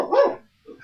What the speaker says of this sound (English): that's my little pup right there